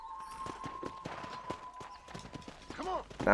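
A saddled horse clip-clops at a walk in the video game Red Dead Redemption, the even hoofbeats fairly close and clear, with a brief whinny-like sound near the end.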